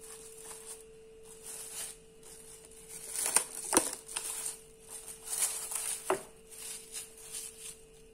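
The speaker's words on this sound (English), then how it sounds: "Cover the bowl with plastic wrap." Plastic wrap being pulled and stretched over a microwave-safe bowl of McCain diced beetroot, giving irregular crinkling and crackling bursts, with a few sharper snaps near the middle, close by and otherwise quiet.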